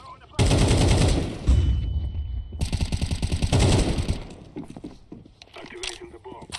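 A flashbang grenade goes off in Counter-Strike 2 amid loud, rapid gunfire, and a thin high ringing tone lingers for about a second before the firing resumes and fades into scattered softer noises.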